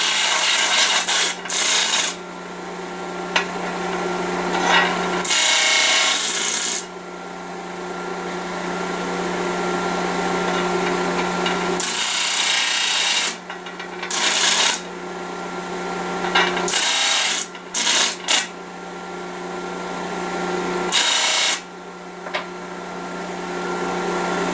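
Loud bursts of a power disc sander grinding against wood, starting and stopping several times, with a steady motor hum between passes.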